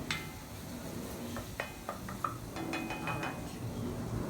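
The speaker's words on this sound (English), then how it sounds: "Again, just deglazing that pan to get ready for these." A pan being deglazed with water and apple cider vinegar while cooking garlicky mustard greens: quiet sizzling under scattered clinks and scrapes of a utensil against the pan, fairly soft and close.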